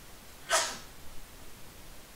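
A single sharp human sneeze bursts out close by in a quiet room during a game development livestream, then fades into faint background hiss.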